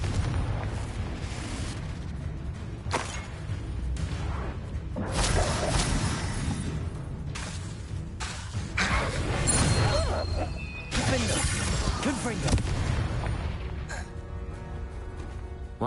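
Fiery Confringo spell blasts in Hogwarts Legacy go off one after another, with booming explosions, crashes and whooshes, some loud and some dull, across a long chaotic fight.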